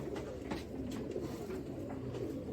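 Pigeons from Tonk in a breeding loft coo in low, steady, overlapping murmurs, a continuous soft rumble with faint higher calls flickering through.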